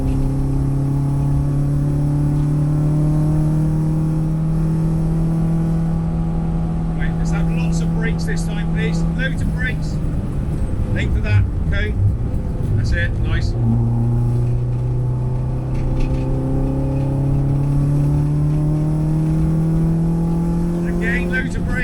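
Car engine accelerating on a road during a driving lesson, a loud steady drone with slowly rising and falling pitch sweeps, and a brief burst of higher clatter in the middle.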